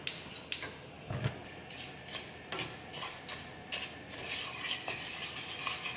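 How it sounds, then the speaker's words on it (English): Dry rice toasting in a pan over medium-high heat, stirred with soft, irregular scraping and light ticking clicks, quiet and close. "I'm gonna put 300 grams of rice into this pan just by itself, and I'm gonna toast it for a little bit before adding the water"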